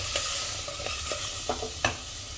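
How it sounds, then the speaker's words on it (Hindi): Coriander, chili and garam masala powder are stirred in a pan for lauki aloo sabji, with several soft scraping strokes over a faint sizzle, close and quiet. "इसे एक बार चला लेंगे इस तरह से"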